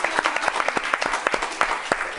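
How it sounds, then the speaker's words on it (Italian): Studio audience applause on a televised football talk show, steady moderate clapping from a modest crowd with distinct individual claps audible throughout. "Applauso qui, applauso."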